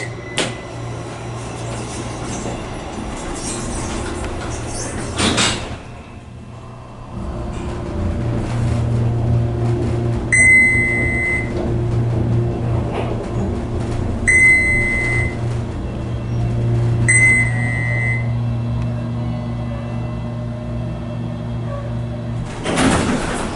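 Inside the cab of a 1970s Fujitec hydraulic elevator at a resort building, a steady low motor hum runs between floors, broken by door thumps and several repeated electronic chimes.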